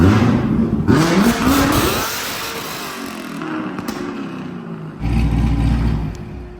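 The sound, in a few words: Z06 Corvette engine revving in a clutch-kick launch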